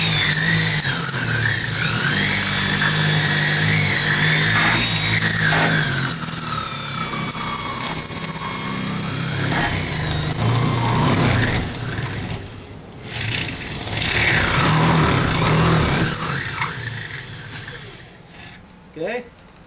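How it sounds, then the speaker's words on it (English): A power drill used as a cutter whines and grinds continuously around a patio awning gutter, pitch rising and falling as it cuts, with a brief pause and talking underneath. "You're just using the drill as a cutter."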